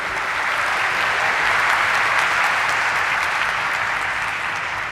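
An audience applauds at a stock exchange listing ceremony in Mumbai, giving dense, sustained clapping that fills the whole stretch and cuts off at the end.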